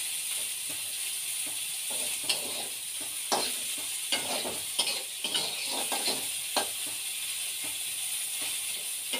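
Egg frying in a pan with a steady sizzle throughout, broken by repeated scraping and clacking strokes of a utensil stirring it, close and fairly loud.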